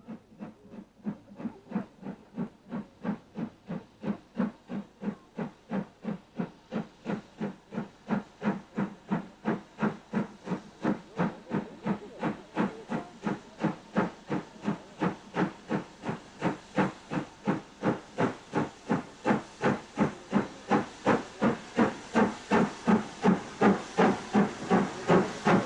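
Steam locomotive Britannia working hard on the mainline over the Settle and Carlisle line, a steady rapid chuff of exhaust beats with hissing steam, growing louder and closer throughout with no voices.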